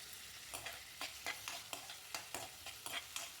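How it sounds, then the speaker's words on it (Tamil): Onion, tomato, crushed ginger and garlic sautéing in hot oil for a chicken kuzhambu, a steady sizzle broken by regular scraping stirs of a spatula roughly every half second, close and moderately loud. "கூடவே தக்காளி சேர்த்து நல்லா வதக்கி விட்டுருங்க."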